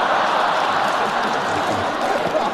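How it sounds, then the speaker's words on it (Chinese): Audience applause at a Chinese crosstalk performance, a dense continuous wash of clapping from a large crowd that holds steady throughout, with a voice faintly under it. "别鼓掌了"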